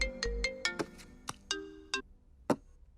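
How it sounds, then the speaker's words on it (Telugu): Mobile phone ringtone playing as a quick run of bright, tonal, plucked notes that ring out one after another and then stop, close and clear with no talking. "హరియా ఫోన్ కట్ చేసావేంటి?"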